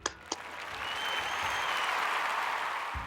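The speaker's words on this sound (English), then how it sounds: "Let's give a round of applause for Eleanor." An audience at a school trimester ceremony applauds a student, the clapping swelling into a dense, steady wash of many hands after two sharp early claps, sustained and fairly loud to the end.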